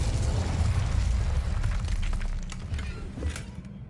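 Incendio fire spell cast in Hogwarts Legacy, a loud whooshing burst of flame with a rumbling roar that slowly fades over a few seconds, with crackling bits near the end.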